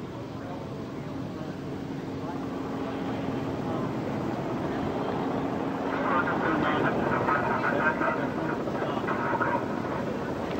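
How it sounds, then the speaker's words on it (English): Space Shuttle Endeavour makes a low flyover at Ellington Field, a steady, distant jet roar that slowly swells louder as it approaches, with a faint crowd background. "It was just spotted with a low flyover at Ellington Field"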